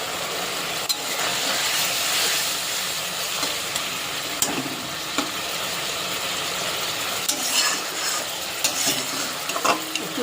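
Green chillies hiss and sizzle in a pan of pointed gourd posto while a spoon stirs now and then, a steady close frying crackle with scattered scraping knocks.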